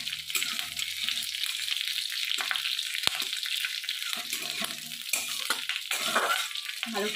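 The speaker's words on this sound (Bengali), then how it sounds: "সর্ষে আর কারি পাতাটাকে আমি ভালো করে ভেজে নেব।" Mustard seeds and curry leaves fry in hot oil for a curry-leaf tempering, giving a steady close sizzle with occasional crackles and stirring scrapes, plus one sharp pop partway through.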